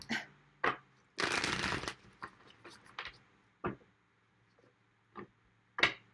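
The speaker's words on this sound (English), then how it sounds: "Last shuffle." Tarot cards being shuffled, a few soft riffling bursts close by, one longer rustling shuffle among scattered brief flicks and taps, with quiet gaps and no speech.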